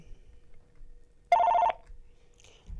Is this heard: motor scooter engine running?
no